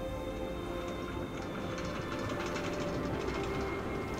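Interior of a New York subway A Express train bound for Queens: a steady rumbling roar of wheels on track with faint rattles and clicks, continuous and moderately quiet.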